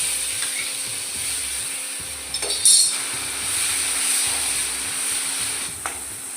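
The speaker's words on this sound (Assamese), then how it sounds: "আৰু এই মিশ্ৰণখিনি এতিয়া আমি কেৰাহীত দি দিছোঁ তেলখিনি গৰম হোৱাৰ পাছত।" Ginger, garlic and ground spices such as coriander and cumin fry in hot oil in a wok for jackfruit curry, giving a steady hiss with occasional clinks of a utensil against the pan.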